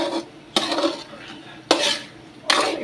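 Tomatoes, garlic and onion being mixed in a bowl for sweet and spicy shrimp paste, three distinct scraping strokes of a utensil against the bowl about a second apart, close and fairly loud, with no speech.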